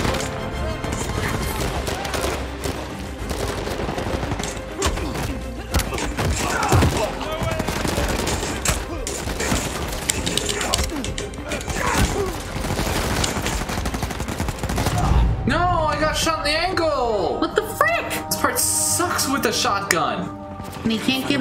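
Gunfire in the video game Uncharted 4, with dense repeated gunshot bursts and occasional heavier shotgun blasts over game music and effects, while people talk throughout.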